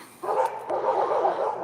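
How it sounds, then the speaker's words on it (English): Small dog barking and yipping close by, a steady run of sharp high yaps held for over a second with no talk over it. "Mini dog."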